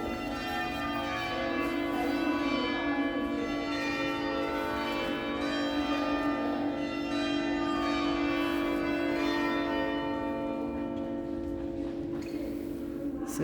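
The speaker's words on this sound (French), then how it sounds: "Allez, on va finir les cloches." Church bells ring steadily and loudly for the whole stretch, their rich overlapping tones sustained and layered with no pause, heard outdoors after rain.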